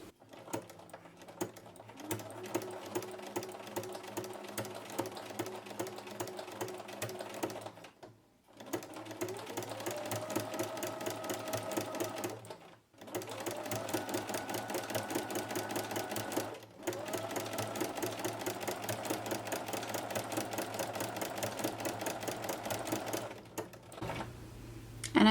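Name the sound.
sewing machine with ruffler foot stitching fabric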